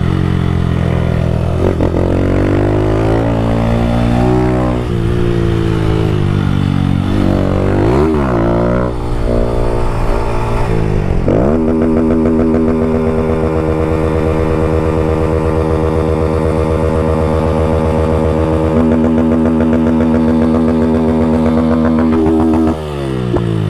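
A Honda Fan 160 motorcycle with a Fortuna exhaust revs loud and close, its pitch rising and falling in several quick throttle blips before it settles into a long, steady high rev that drops away at the end.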